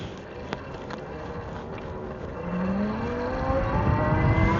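Tuttio Soleil 01 motorcycle, stock, accelerating at full throttle, a rising engine whine climbing in pitch over wind rush, growing louder midway and holding steady, heard from the rider's position.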